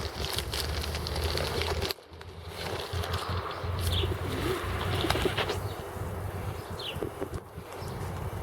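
Pigeons or similar birds flocking among cherry blossoms, wingbeats and soft calls mixed into a dense, steady outdoor background.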